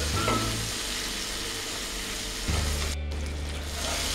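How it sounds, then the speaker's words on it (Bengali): Spice paste with green chilli and sugar sizzles steadily in a pan for a Bengali prawn curry, with close stirring and a brief surge of frying as the paste is moved. "দিয়ে এবার খুব ভালো করে মশলাটা ভেজে নেব।"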